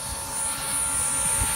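An OXY3 Sport RC helicopter flies over a field, a steady whining rotor and motor drone with a high tonal whine riding on top, held for under two seconds.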